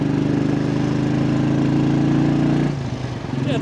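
A 1983 Royal Enfield motorcycle imported from India thumps steadily with a loud, close, low engine pulse while riding, then drops in pitch and eases off near the end as if shifting or slowing.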